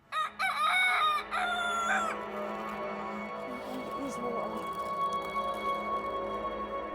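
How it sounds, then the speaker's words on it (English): A rooster crows loudly and close by on a farm, with a second crow right after, and then hens cluck more softly over a steady background murmur. "then obviously the chickens are going to suffer"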